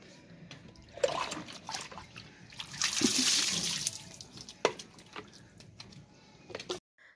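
Water splashing and trickling close by as a child is bathed and a sacred thread is soaped and washed, with irregular splashes, drips and a steadier pour midway.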